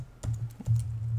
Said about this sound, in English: Again, just using my bracket keys for the brush size.